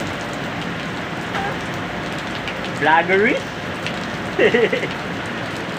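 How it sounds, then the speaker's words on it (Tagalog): Dense, steady heavy rain hisses throughout by the sea near the mountains in Mariveles, Bataan, heavy and constant, with a voice speaking briefly twice over it. "Wala na makita sa dagat sa sobrang lakas ng ulan"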